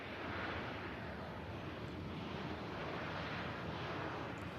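An Airbus A321 with IAE engines passes at Manchester Airport, a broad, steady roar heard outdoors, loud and unbroken with wind-like rushing across the whole stretch.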